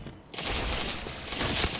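Video game gunfire from a rapid run of headshots, a dense loud burst of shots that starts abruptly after a brief quiet moment and carries on without a break, no talking.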